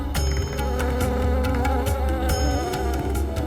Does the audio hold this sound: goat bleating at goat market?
no